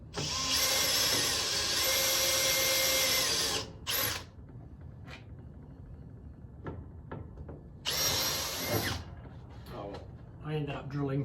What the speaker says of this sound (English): I ended up drilling through that one